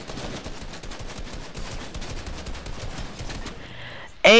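Rapid, steady automatic AR fire from a Fortnite-style video game rattles continuously for about four seconds, loud and close, then cuts off into a brief sharp burst of different game sound at the end.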